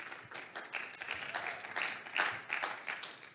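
A small audience claps after a band's performance, light uneven clapping that swells and dips over a few seconds, fairly quiet and with no talk over it.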